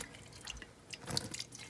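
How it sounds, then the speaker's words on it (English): Hot water from a kettle trickles over the rim of a glass jar in a kitchen, a quiet run of soft drips and splashes that swells briefly toward the end. "by the hot water going down the rim, it sanitizes all the sides"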